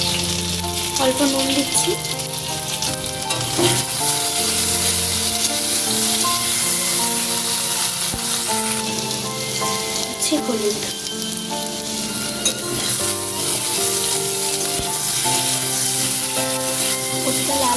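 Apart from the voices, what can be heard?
frying taro root in a pan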